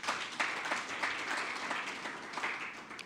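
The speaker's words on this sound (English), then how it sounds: "Let's also clap for the trainer's manual." An audience at a sustainable finance curriculum launch claps in a steady burst of moderately distant applause, dense and even throughout without any talk over it.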